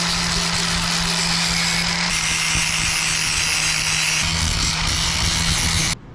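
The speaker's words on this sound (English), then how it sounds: "Now you want to grind off all that rust" A grinder taking rust off trailer suspension parts, a loud continuous abrasive whine and rasp holding steady for about six seconds before cutting off, close and without voices.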